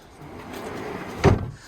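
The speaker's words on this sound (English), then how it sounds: "Second drawer." A storage drawer in a truck camper build slides open, ending in a short sharp thump after a soft rumble of movement, heard alone and close.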